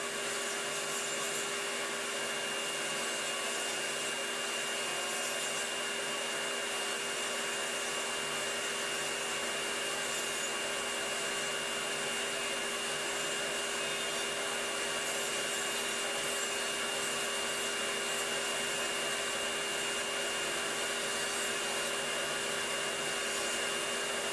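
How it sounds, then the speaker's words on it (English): A steady, whirring drone from a machine with a built-in vacuum, running continuously at an even, fairly loud level without pause. "Well, it has a vacuum in it. Oh, That's what you're hearing, yeah."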